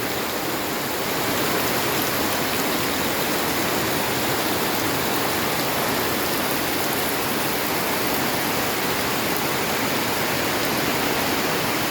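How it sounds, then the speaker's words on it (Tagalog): Heavy rain pouring down in a dense, steady roar that stays loud and unbroken throughout. "umagang kay ganda pero malakas ang ulan dito."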